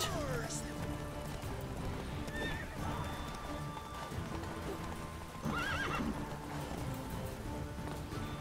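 A horse in The Witcher 3 neighs twice over a steady clatter of galloping hooves that runs the whole time, with someone talking over the game.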